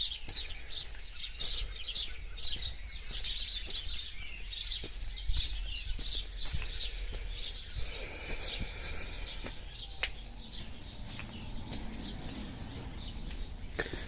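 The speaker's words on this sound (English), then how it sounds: "Very loud birds." Many birds sing outdoors on a street, with busy overlapping chirps and tweets throughout, fairly close and loud over faint background noise.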